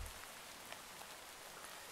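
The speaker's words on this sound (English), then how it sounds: "Get through this horrendous rain." Rain in the video game Minecraft, Valhelsia 2 modpack: a steady, even hiss of falling rain and spattering drops that holds at a soft level throughout, with no voices.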